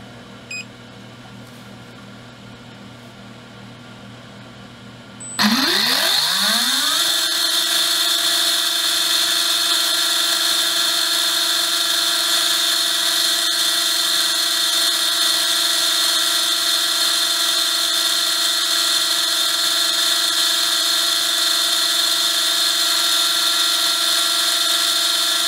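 A Tekin Elite 17.5t Gen4-R2 brushless RC motor spins up from idle and holds a steady, loud electric whine at constant speed for about twenty seconds, alone without talk.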